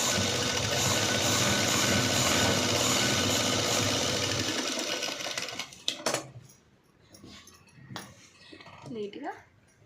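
A sewing machine stitches a neat U-shaped seam in steady, loud continuous whirring for about five seconds, then stops, leaving quieter handling noises.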